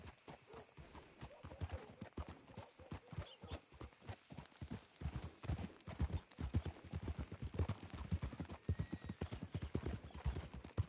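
Horse hoofbeats from Red Dead Redemption II, a fast, continuous clip-clop of hooves that grows louder and denser toward the end, with faint game ambience and no speech.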